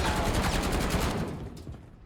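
Rapid gunfire from a low-recoil loadout weapon in Warzone, Verdansk Season 3, rattles off as a dense, loud, continuous burst that trails away over about two seconds.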